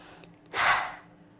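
A single deep inhale during a yoga flow, a soft airy breath swelling over about half a second and then fading, close to the mic with no talking.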